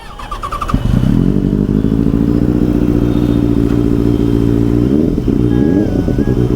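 A superbike engine, running hot with a coolant problem, blips briefly and then settles into a loud, steady high-revving roar held close for several seconds before easing off.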